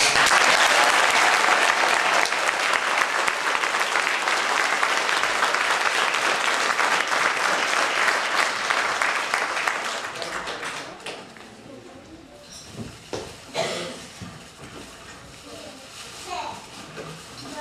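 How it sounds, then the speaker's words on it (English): A hall audience at a Christmas concert gives children a sustained round of applause, dense steady clapping for about ten seconds that fades into scattered claps and rustling. "I think they deserve a big round of applause."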